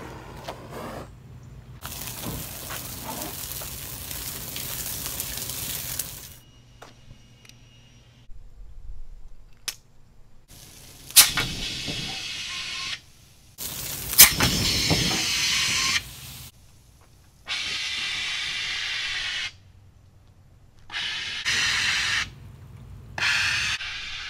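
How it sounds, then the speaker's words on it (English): Kidde Pro 2.5lb BC dry chemical extinguisher discharging onto a gasoline pan fire, several loud hissing spray bursts of a few seconds each separated by quieter gaps, outdoors with no talking. "Now let's light the fire and extinguish it."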